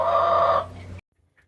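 A broody hen sits clucking on a nest of about twenty eggs, letting out a loud, close, drawn-out cluck that fades away into near silence.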